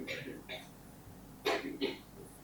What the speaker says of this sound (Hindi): क्या सोच कर आए हो क्या आज साथ साथ खांसना है?